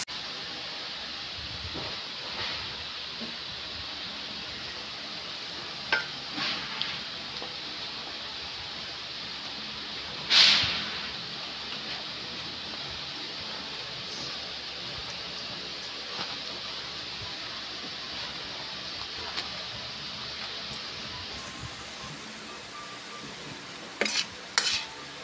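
Chicken pastil frying in a pan in a home kitchen, a steady sizzle under repeated scrapes and clinks of a utensil stirring against the metal, with one sharper clank partway through.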